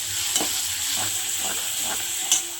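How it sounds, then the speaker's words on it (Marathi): Spicy dal is stirred while it fries, giving a steady close sizzle. Soft scraping strokes and a couple of sharp clinks of the spoon on the pot come through it, with no talking. "जेवणाला आपण तिखट डाळ करणार घेणार आहे बनवायला घेते मी तिखट डाळ"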